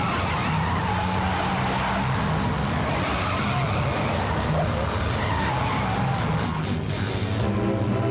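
A car skids hard during a chase, tires squealing continuously over a roaring engine for several seconds, loud and close, with voices shouting faintly beneath the noise.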